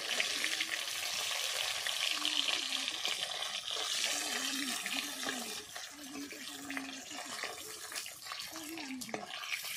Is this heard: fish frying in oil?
yes